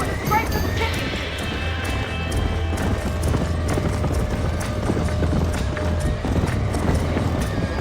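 Horse hooves clip-clop at a gallop in the Western video game Red Dead Redemption, a steady close rhythmic beat with occasional whinnies, under game music and dialogue.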